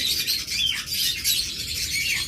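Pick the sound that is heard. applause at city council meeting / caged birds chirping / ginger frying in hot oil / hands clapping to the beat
caged birds chirping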